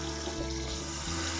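Water runs steadily from a tap into a cooking pot for Sri Lankan fried rice, a continuous close splashing stream with a low humming tone underneath and no talking.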